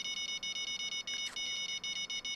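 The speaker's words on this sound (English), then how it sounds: "And I am sorry if that beeping is very loud." A fishing rod bite alarm in the video game Fishing Planet, set at the Everglades while bass fishing, beeps loudly in a steady rapid pulse of high electronic tones, repeating without pause.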